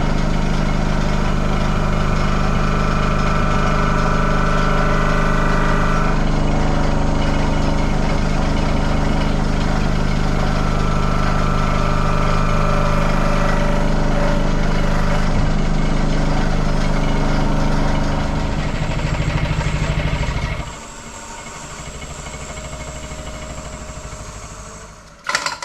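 An engine idles steadily at about 1500 RPM, a loud, close, continuous drone that holds for about twenty seconds before dropping to a lower, quieter hum near the end.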